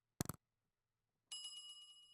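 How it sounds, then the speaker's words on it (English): A notification bell sound effect: a short burst of rapid bright dings, a pause of silence, then a sustained ringing bell tone that carries on to the end. "so you get hit the notification bell"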